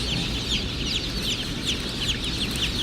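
Newly hatched broiler chicks, meat birds, at the Murray McMurray Hatchery keep up a constant, dense chorus of high, shrill peeps from many birds, all close and loud with no pauses.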